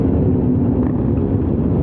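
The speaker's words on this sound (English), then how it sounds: "there's like new sounds I'm hearing for the motorcycles" A steady, loud low rumble of a motorcycle engine droning continuously while riding, with broadband road and wind noise layered over it.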